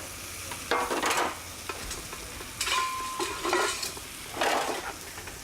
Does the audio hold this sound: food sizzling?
yes